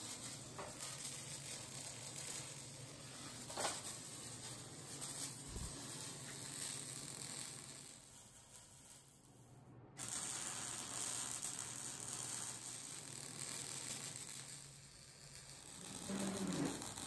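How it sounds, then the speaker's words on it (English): Steady crackling and sizzling of welding on an off-road trailer build, with ramps being fabricated; a continuous hiss runs throughout, briefly dropping out midway before resuming at full strength, with no talking. "You ready to do some welding?"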